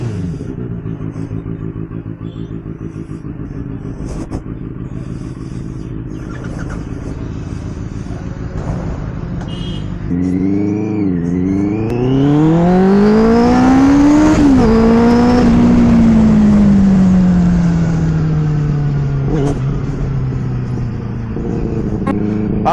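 A Benelli superbike passes close by, its engine climbing in pitch as it revs hard and accelerates, then falling away as it rides off, loud over a steady background rumble.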